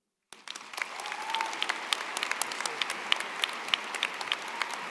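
An audience bursts into loud sustained applause welcoming Senator Dick Durbin at a commencement ceremony, dense crowd clapping starting abruptly and continuing steadily.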